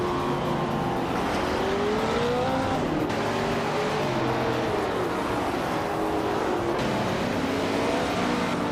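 A 1966 Chaparral 2E race car's engine rises and falls in pitch through gear changes, with a continuous loud racing roar and other cars around.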